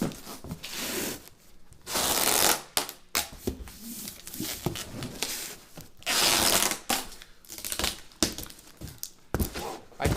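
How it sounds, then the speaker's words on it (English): Packing tape pulled and wrapped around a cardboard box for shipping a trumpet, with bursts of ripping and scraping tape noise between brief pauses, close and moderately loud. "And this is the beauty of this packing tape."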